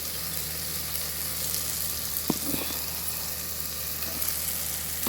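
Peppercorns, cloves and bay leaf fry in oil in a pan while being stirred, giving a quiet, steady sizzle with a couple of light scraping clicks.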